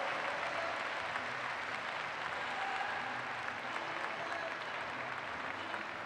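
An audience at a show jumping competition applauds a clear round. The clapping is steady, dense and sustained, heard from within the crowd.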